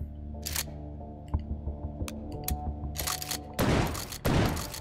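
A magazine-fed gun fires in the VR game Hot Dogs, Horseshoes & Hand Grenades, with sharp mechanical clicks and handling noises followed by two loud bursts of gunfire near the end.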